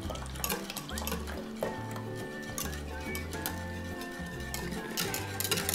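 Whipping cream stirred into a milk and gelatin mixture, a continuous scraping and swishing of a utensil against the bowl with a rhythmic low thumping, close and steady.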